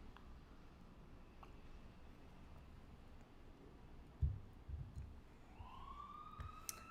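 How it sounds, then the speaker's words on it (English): Emergency vehicle sirens wail faintly in the distance outside during snowy, icy weather in Cleveland, rising toward the end over a quiet, steady background. "I'm sorry about the sirens too."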